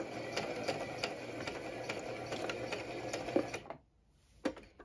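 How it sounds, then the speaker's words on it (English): Sewing machine stitching white thread on blue fabric, backstitching at the start: steady close mechanical stitching with a rhythmic tapping, stopping abruptly near the end and followed by a brief clunk. "And you do need to backstitch at the beginning."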